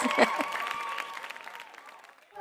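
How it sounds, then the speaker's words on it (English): Clapping from a group rises briefly and gradually fades away, with a voice mixed in at the start. "that deserves some hand claps and some praise"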